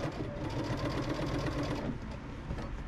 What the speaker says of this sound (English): Give a little back stitch.